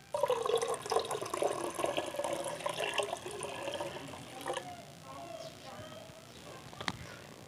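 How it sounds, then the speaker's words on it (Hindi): Sodium chloride solution is poured into silver chloride solution during silver recovery from electronic buttons, a fairly quiet splashing, trickling pour that tapers off, with a sharp tap near the end. "ये सोडियम क्लोराइड की सॉल्यूशन अब हम इस सिल्वर क्लोराइड की सॉल्यूशन में डाल रहे हैं"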